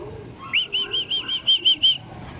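A burst of racing pigeon wingbeats as birds land at a loft trap, eight or so quick rhythmic flaps close by, with faint chirps and no talking.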